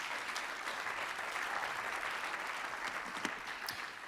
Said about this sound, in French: Vous pouvez les applaudir, bien sûr.